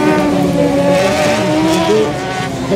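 Race cars in a motorsport final brake and engines rev, producing steady, loud engine drone with tire noise and shifting tones throughout, close and continuous without speech.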